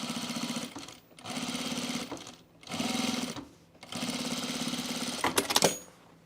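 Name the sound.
sewing machine understitching a seam allowance on pants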